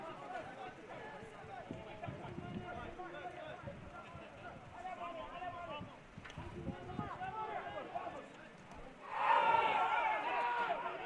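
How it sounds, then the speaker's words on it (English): Spectators at an amateur soccer match between Sahara Gunners FC and IASC Boom at Crosby Field raise a sudden, louder swell of crowd noise near the end, following steady match ambience under continuous commentary. "Hear the crowd looking for a call there,"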